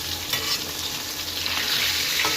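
Rohu fish heads frying in oil in a pan: a dense, steady close sizzle with light stirring, loud and continuous throughout.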